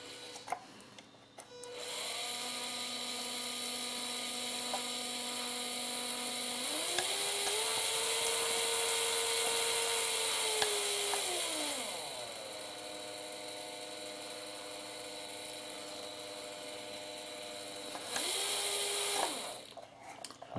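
A wireless fishing rod wrapper's small electric motor spins in wrap mode with a steady tonal whine that rises in pitch as the speed is raised, then drops back down, close up with no talking.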